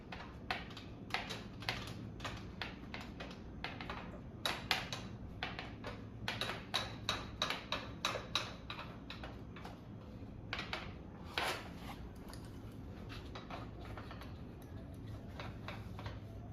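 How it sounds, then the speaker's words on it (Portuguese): Wrenches tighten a flange nut onto copper pipe for a tubing connection, giving a long run of sharp metallic clicks and ratcheting ticks in irregular bursts, close and fairly quiet. "eu venho com as minhas chaves e dou o meu aperto"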